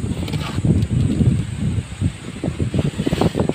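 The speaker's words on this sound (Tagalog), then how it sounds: "Lakas ng hangin." Strong monsoon wind gusts roar and buffet close by in a yard strewn with fallen ipil-ipil leaves, a steady low rumble with rising and falling surges throughout.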